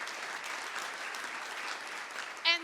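An audience claps in a large hall after remarks on the Dobbs abortion decision. The applause is faint and distant, a soft steady wash with one brief louder vocal sound near the end.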